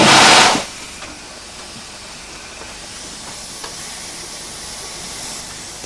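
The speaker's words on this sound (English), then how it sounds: "The fire heats the water and makes steam." A steam locomotive releases a loud, broad hiss of steam for under a second, then drops to a low steady rumble and faint hiss with a few light clanks.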